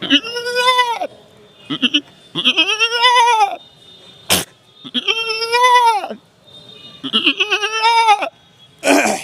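A man imitates a goat's bleat in several wavering, nasal cries, loud and close, separated by short breaths and a few quick clicks.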